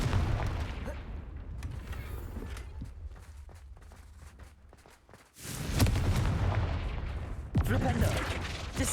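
A muffled, rumbling game soundscape gives way to a loud Confringo spell blast in the video game Hogwarts Legacy, followed by a second sharp impact a couple of seconds later, both close and forceful.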